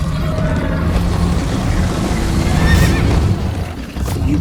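A horse whinnies loudly in Minecraft: Story Mode amid a busy, dense background of rumbling and clattering, with faint hoofbeats mixed in.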